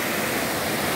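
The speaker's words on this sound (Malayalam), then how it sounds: "അപ്പോൾ നമ്മൾ എത്തിയിരിക്കുന്നത് പാൽസരം വাട്ടർ ഫাൾസിൽ." Palchuram waterfall in the Wayanad forest pours in a dense, steady roar of rushing water, close and constant, filling the whole moment with no voices.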